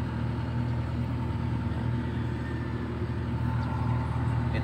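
A backhoe's diesel engine runs at steady revs: a loud, close, continuous low rumble and drone that stays even throughout, with no voices over it.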